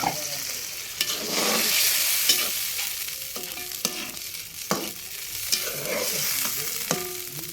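Curry sizzles in a pan after broth is poured in, a steady frying hiss broken by several sharp clinks and scrapes of a spoon stirring against the metal.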